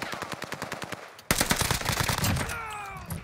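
Rapid automatic gunfire in a battle royale game on the Caldera map, loud close bursts of evenly spaced shots, a brief pause, then a denser volley with ringing echoes trailing off.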